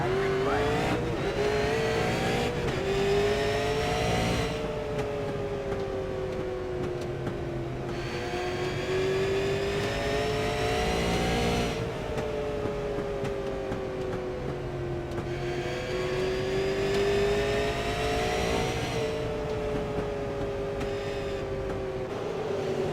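Race cars roar past and accelerate hard on a restart at Oxford Plains Speedway, engines rising and falling in pitch as they pass in repeated waves, loud and continuous.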